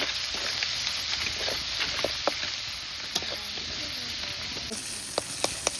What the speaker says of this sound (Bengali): পেঁয়াজ দিয়ে দিয়েছি, পেঁয়াজটাকে ভালো করে ভেজে নেব।